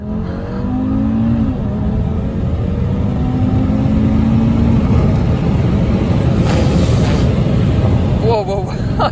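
An Audi RS3 accelerates hard from a launch, its engine note climbing as it revs up and holding a loud, rising roar for several seconds, with people exclaiming and talking inside the car.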